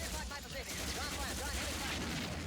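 Film sound effects of gunfire and a grenade blast in a 1979 picture, a helicopter blown up: a dense, sustained burst of shots and booms fills the whole stretch loudly, with voices faintly mixed in.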